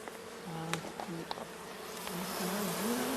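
Bees buzzing densely inside a strong, well-populated beehive, a steady close drone with wavering pitch and a few brief louder passes of individual insects, no voices.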